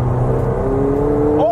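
McLaren car engine accelerating from inside the cabin, a loud steady drone with the pitch rising near the end, heard close with a person talking over it.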